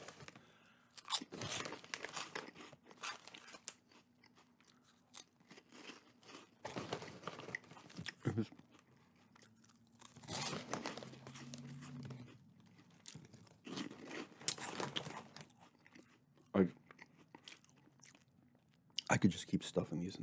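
Puffed Cheez Doodles being chewed up close, soft repeated crunches and mouth sounds arriving in uneven bursts between quieter pauses, with a person talking softly at times.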